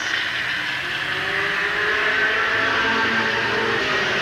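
Race cars in a 1988 heat race at Midvale Speedway, engines droning and whirring steadily at a distance as the pack circles the track, a continuous roar without voices.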